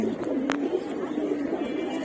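Large pigeons in a loft give a low, steady cooing that runs throughout, with a couple of brief sharper sounds over it and no one speaking.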